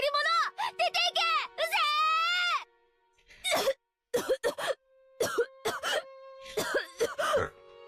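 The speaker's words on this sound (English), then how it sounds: "midway she had an asthma attack and started to cough pretty badly" Jessica, a character in the Umineko When They Cry visual novel, coughing badly during an asthma attack, with a voice actress performing a run of harsh, repeated coughs and groans after some high-pitched speech.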